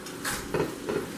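Peanut butter being stirred into a hot pot of boiled sugar, milk and butter for no-bake cookies, with soft scraping strokes and a faint sizzle repeating in a slow rhythm, close by and fairly quiet.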